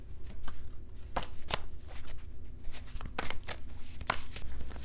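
Tarot message cards being shuffled by hand, a steady run of soft papery riffles and snaps with sharper slaps now and then, close and fairly quiet, no talking.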